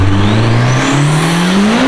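Nissan S15 with an aftermarket turbo exhaust revving hard, engine pitch climbing steadily as the turbo spools, loud and close with no one talking.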